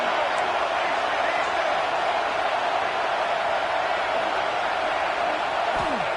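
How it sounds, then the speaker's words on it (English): A huge stadium crowd roars steadily at a college football game during a tense late two-minute drive, a dense unbroken wall of noise from start to finish. "Listen to this crowd just shaking the girders of this place"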